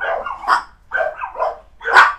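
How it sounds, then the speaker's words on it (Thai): A dog barks repeatedly at someone walking past the front of the house, five or so loud, close barks in an uneven rhythm with no talking. "มีคนมาเดินหน้าบ้านมาก็เห่าธรรมชาติของหมานะ"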